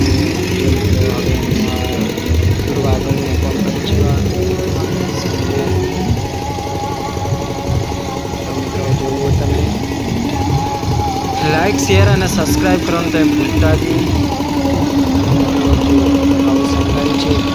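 Two farm tractors running close by, a steady loud diesel engine drone and chugging that continues throughout, with people talking over the engine noise.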